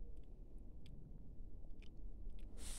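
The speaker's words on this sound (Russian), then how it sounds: "Кто-то чавкает тут мороженым." Ice cream chewed outdoors in a snowy winter forest on a river floodplain, close soft wet chewing and small crunchy bites repeating irregularly against a quiet background, with no talk.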